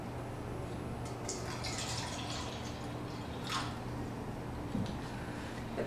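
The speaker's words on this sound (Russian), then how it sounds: "Я сейчас налью их в два стаканчика." Leftover tap water poured into two small cups, a faint trickle and drips set against a steady background hiss, with no talking.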